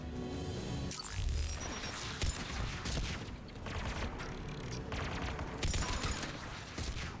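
Anti-aircraft guns firing in the video game Mass Effect 3, a dense, continuous barrage of heavy booming shots and crashes, loud and rhythmic throughout with no voices.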